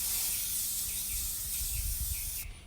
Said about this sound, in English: I kind of spray off to the side